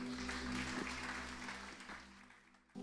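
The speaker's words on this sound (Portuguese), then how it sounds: "Vamos aplaudir o Senhor." A church congregation applauding during a worship service, heard as faint, distant, steady clapping beneath a low, constant electrical hum.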